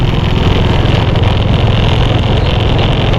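A motorcycle rides along a road on the way to a morning market, its engine droning loudly and steadily close by with a rough, continuous rumble and wind noise, no talking heard.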